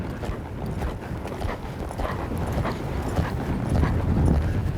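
Hooves of a ridden horse on a spiral exercise: steady clip-clop footfalls with a gentle rhythm, close by over soft arena background, with no voices.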